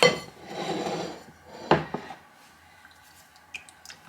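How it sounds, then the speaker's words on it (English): Wet bread dough is stretched, pulled up and folded over by wet hands in a bowl, giving soft squishy, sticky handling sounds with a sharp knock of the bowl partway through, then quieter scraping and small clicks. "Then I'm going to stretch it and pull it up and fold it over itself."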